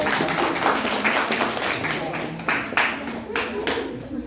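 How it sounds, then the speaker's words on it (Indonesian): A small group claps unevenly after a volunteer's rapid health assessment report from a disaster response, with scattered sharp hand claps over a murmur of voices and talk. "Tepuk tangan dulu."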